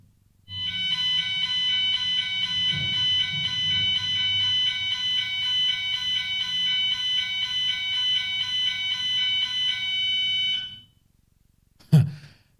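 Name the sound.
alarm going off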